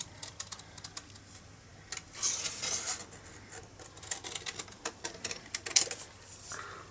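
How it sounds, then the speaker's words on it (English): Paper being cut freehand with scissors while matting a flowering-fields tulip gift bag, giving soft, irregular snips and crisp rustles at close range with no talking. "I'm just going to cut this out freehand."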